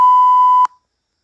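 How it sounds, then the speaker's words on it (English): A pure, loud censor beep tone holds steadily for just over half a second, then stops sharply with a brief click, leaving silence. "I got the beep sound from the internet"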